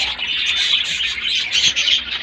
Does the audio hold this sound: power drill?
no